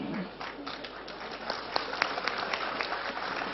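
Audience applause at a humorous Islamic sermon by KH. Hasyim Muzadi: a steady, dense wash of clapping throughout, fairly loud and continuous, with scattered sharper claps standing out near the middle.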